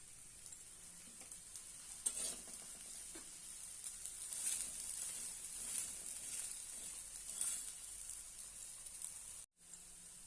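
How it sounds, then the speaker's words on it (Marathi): Cucumber thalipeeth flatbread roasting in oil in a pan after being flipped, giving a steady, close sizzle with occasional scraping and stirring clicks and a brief drop-out near the end. "मस्त असं आपण खरपूस भाजून घेऊया तेल सोडूया"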